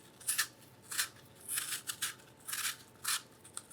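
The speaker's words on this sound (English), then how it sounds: "try and get as much of the peeling off as possible because when we cut this, we don't want any peeling on our apple" A knife peels the skin from an apple in a kitchen, a series of about eight short, crisp scraping strokes in an irregular rhythm, close and moderately quiet with no talk.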